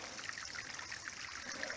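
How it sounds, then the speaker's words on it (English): A small spring trickles water out of a hillside on a backpacking trip, a faint, steady close-up babble with soft bubbling and no voices. "this is where the water comes from right here, right out of the side of the hill"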